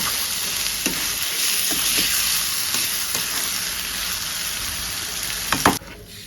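Chicken fries in hot oil in a pan, a steady close sizzle with occasional sharper crackles and spatters that flare near the end. No one speaks.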